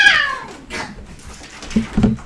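A cat meows loudly and close up, with a falling wail at the start followed by a couple of short, quieter low calls toward the end, heard alone without talk.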